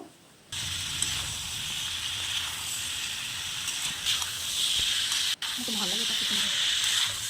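Chopped ash gourd frying with spices in a pan, a steady hissing sizzle that starts abruptly and holds loud and even, with a brief break and faint stirring knocks near the end.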